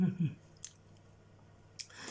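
Someone chews a crunchy homemade cake with cinnamon, hazelnuts and raisins, giving a soft bite near the start and a few quiet clicky crunches later, close and faint, with no talk over it.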